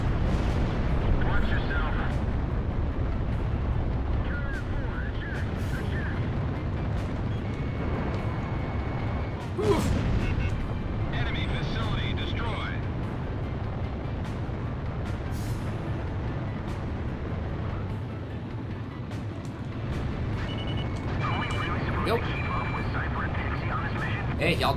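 Gunfire, anti-aircraft fire and explosions in the Ace Combat Zero: The Belkan War flight game, a dense rumbling barrage with jet engine noise and occasional sharper blasts, heard under continuous talking.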